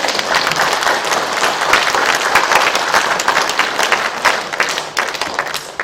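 An audience at a religious gathering breaks into warm, sustained applause, dense clapping from many hands at close range filling the hall for several seconds before starting to thin out.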